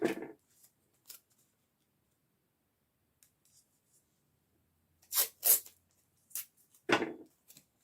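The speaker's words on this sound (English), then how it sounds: "I'm going to put tape at the sides" Makeup tape tears in a few short, sharp rips and crackles, close and bursting out of near silence.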